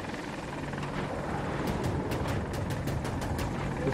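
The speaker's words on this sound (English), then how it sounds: "One more chopper on Charlie 1." A helicopter's rotor thrums in a steady, continuous drone in the Battlefield game on the Hourglass map, with rapid thin clicking bursts joining partway through.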